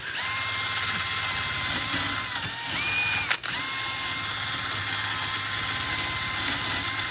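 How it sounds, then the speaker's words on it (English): A drill spins a wire wheel to clean a brake caliper bracket on a 2010-2016 Cadillac SRX, making a steady whirring scrub with thin tonal whine; the pitch dips briefly midway and a sharp click interrupts before the grinding continues. "I'm just gonna use a wire wheel on a drill"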